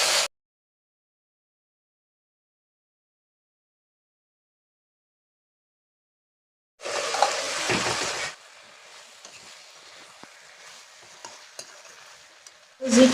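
Local chicken fries in a pan with ginger garlic paste, giving a loud burst of sizzling and stirring after a long silence, then settling into a quieter, steady crackle.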